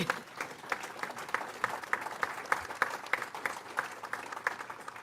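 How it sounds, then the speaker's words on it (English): An audience at a United Nations General Assembly event applauds steadily for about five seconds, a moderate, even patter of many hands in a large hall. "Yes, clap for that."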